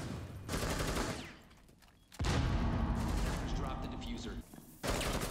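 Gunfire in Rainbow Six Siege, loud bursts of rapid shots separated by short quiet gaps, with game noise between them.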